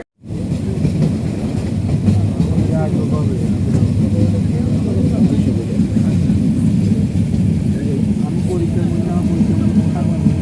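A train pulls into Airport station in Bangladesh after leaving Kamalapur, heard from on board as a continuous loud rumble with rattling wheel clatter throughout.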